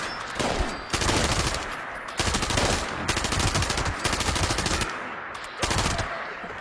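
Automatic gunfire from a ghoul commando build cutting down Super Mutants in a video game, loud sustained bursts of rapid shots with brief pauses between volleys, close and dominant with no talk.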